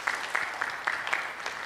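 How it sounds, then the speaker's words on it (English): A modest audience claps at a 2021 conference session, the applause faint and a little uneven, with distinct bursts of hand claps rising out of a light, steady patter. "a round of applause"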